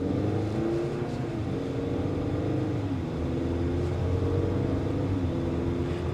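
Steady engine drone from inside a 2023 Acura RDX A Spec Advance accelerating on a test drive, a continuous muffled hum with faint road noise and no talking.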